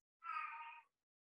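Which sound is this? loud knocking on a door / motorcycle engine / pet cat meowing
pet cat meowing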